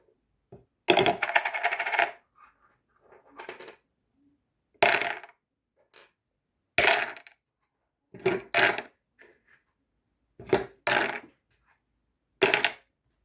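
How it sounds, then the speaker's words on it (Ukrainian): Game chips drop one at a time into a container, each landing as a short, sharp clatter, about seven separate clicks spaced a second or two apart with silence between them. "кидати в контейнер. По одній. І так всі фішки."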